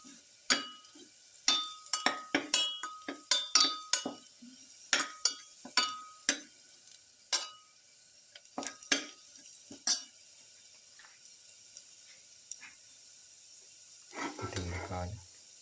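Shrimp and potatoes being sautéed in a pan produce a run of sharp, close pops and crackles at irregular intervals, quieting to near silence before a short burst of stirring noise near the end.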